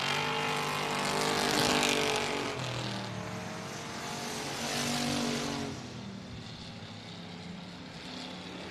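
Sportster race cars at night on the Boothill Speedway dirt oval, engines roaring and swelling as they pass and circle, fading and rising again in the distance during the final lap.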